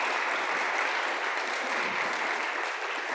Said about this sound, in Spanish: Vamos a darle un aplauso a Dani.